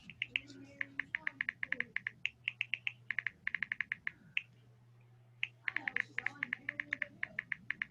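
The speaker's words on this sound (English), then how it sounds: "I can hear you typing." Someone typing on a computer keyboard during an online chemistry class: quick runs of crisp, close key clicks with short pauses between bursts, over a low steady hum.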